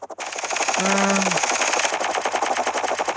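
Sustained rapid automatic gunfire from the video game Team Fortress, a dense loud burst lasting several seconds with a brief tonal whine mixed in, no voices heard.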